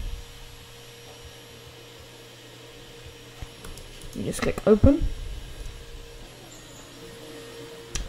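A Hoover vacuum cleaner runs indoors as a faint, steady droning hum behind someone talking, with a brief burst of clattering noise partway through.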